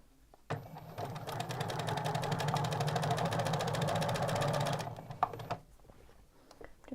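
A sewing machine stitches a French seam in one continuous fast run of even rapid clatter lasting about four seconds, then stops and is followed by a few faint handling clicks.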